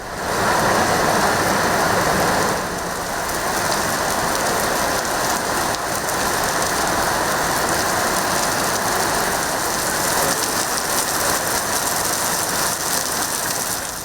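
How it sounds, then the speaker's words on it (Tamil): Heavy rain pouring steadily over Chennai, a dense, loud, unbroken hiss of falling water with no voices. "சென்னையின் பல்வேறு பகுதிகளில் மிதமான முதல் கனமழை பெய்து வருகிறது."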